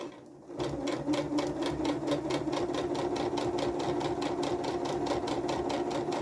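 A sewing machine stitches a dungaree in a steady, rapid mechanical rhythm, close and clear, after a brief quiet start.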